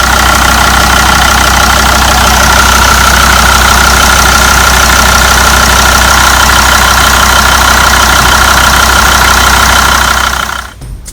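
Jeep engine with a homemade crankcase oil separator fitted, running steady and loud at idle right up close, then cut off abruptly near the end.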